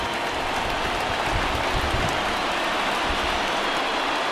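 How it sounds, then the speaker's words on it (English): Steady, broadband rain hiss from a baseball video game, heavy and even throughout with no talk over it. "the rain starting to intensify here. It's coming down a little heavier now"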